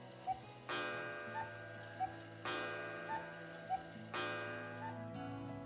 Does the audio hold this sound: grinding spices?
no